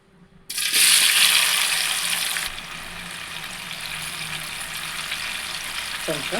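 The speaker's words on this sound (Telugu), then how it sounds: "ఆయిల్ బాగా హీట్ అయిన తర్వాత టమాటాలు వేసుకోవాలి" Tomatoes drop into hot oil in a pan with a sudden loud hiss that settles into a steady, close sizzle and continues to the end.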